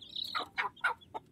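A mother hen clucks over a brood of chicks, giving four short, close clucking calls in quick succession with a faint high chirp at the start.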